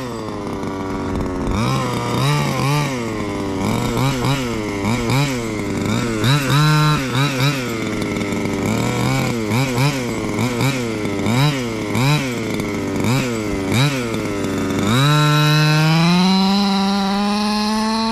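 HPI Baja 5B radio-controlled car with its smaller gas engine runs loud and close, revving up and down in repeated bursts with a buzzing two-stroke rasp, then holds a steady high whine near the end.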